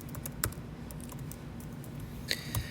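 Light, uneven taps on an iPad's keyboard, a few soft clicks spread over a couple of seconds with quiet pauses, close by and without talk.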